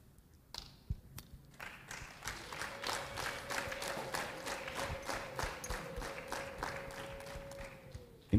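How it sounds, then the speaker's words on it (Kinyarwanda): Wedding guests clap at a Rwandan wedding ceremony: a few scattered taps at first, then a regular, rhythmic clapping that grows into a steady beat, moderately distant, with a faint sustained tone running beneath. "impamvu aba bantu bumva bakomye amashyi kandi bagushimiye"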